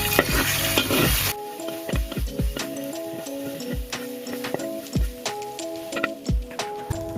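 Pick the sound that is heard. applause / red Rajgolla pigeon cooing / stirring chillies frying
stirring chillies frying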